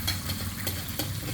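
Steady crackling sizzle of food frying in a pan on a home stove, with a faint continuous hiss and occasional stirring scrapes, close and alone.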